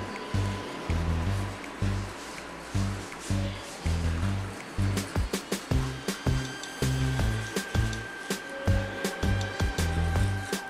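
Toothbrush scrubbing teeth with Carbon Coco charcoal whitening powder, a close, rhythmic wet brushing with short back-and-forth strokes that continue steadily throughout.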